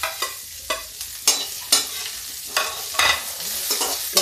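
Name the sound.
onions frying and being stirred in a pan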